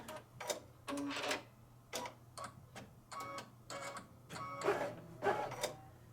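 A Brother embroidery machine stitches a Henrietta chicken design while the thread shreds and the stitching goes wrong, giving bursts of rapid mechanical needle chatter broken by short pauses, close and steady, with no voices.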